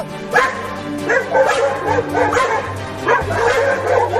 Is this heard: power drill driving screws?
no